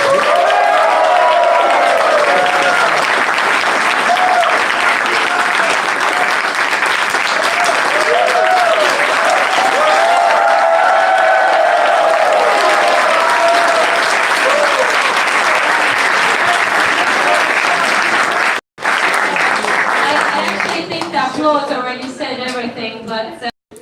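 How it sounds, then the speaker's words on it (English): Sustained, loud audience applause fills a hall at the Garage48 final event in Tashkent, with dense clapping that runs for about twenty seconds, then breaks off briefly and trails into scattered claps and voices. "So let's make a huge applause."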